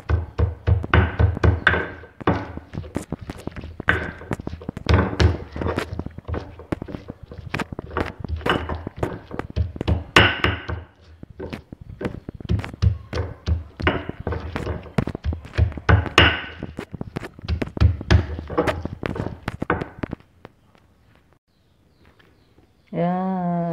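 Spices for pecak sambal terong are pounded in a stone mortar and pestle: a steady run of close, heavy thuds and knocks with grinding scrapes for about twenty seconds, then a brief quiet and a short voice at the end.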